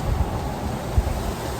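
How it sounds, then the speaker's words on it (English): Steady wind gusting around 20 miles an hour at St. Pete Beach, a continuous low rumbling roar of buffeting against the microphone with a couple of heavier thumps, no voices. "Wind's blowing about 20 miles an hour"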